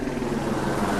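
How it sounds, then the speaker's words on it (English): A helicopter passes close overhead, a loud, dense rotor thrum with a steady throbbing beat filling the whole moment. "I'm growing a helicopter passing overhead."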